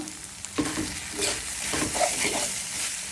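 Chickpeas frying for chola bhuna are stirred in a hot pan, a close, continuous sizzle broken by a few scraping strokes of the spoon.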